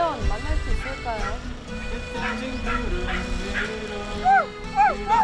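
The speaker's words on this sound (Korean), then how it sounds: "짖는 소리도 들려서" A dog yips and barks repeatedly in short bursts, with whimpering cries mixed in, heard up close while people talk over it.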